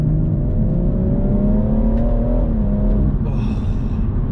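A 2018 BMW M140i engine pulls hard in third gear in manual mode, a loud continuous interior rumble with a steadily climbing drone, close and without speech.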